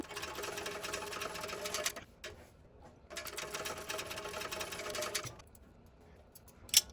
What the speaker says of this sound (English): So I'm going to be stitching at 1/8 of an inch. So I'm going to up to a 5 stitch length. I am back stitching.